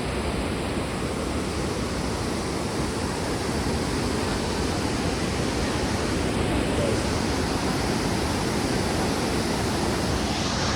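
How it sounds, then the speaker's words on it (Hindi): A loud, constant roar of the rushing Ganga river near Govindghat, broad and unbroken throughout, with no talk. "गंगा जी की आवाज़ बहुत ज़ोरदार"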